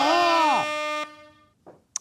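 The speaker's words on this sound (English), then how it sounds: "Sorry, service air horn." A loud, sustained air horn blast blares close up for about a second, then cuts off, leaving brief faint noises behind.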